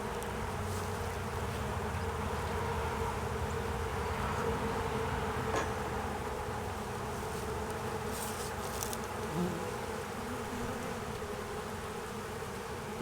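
Honeybees buzz around a hive box during a spring upgrade, a dense, continuous drone of many insects close by, with occasional louder passes of individual bees and faint handling noises.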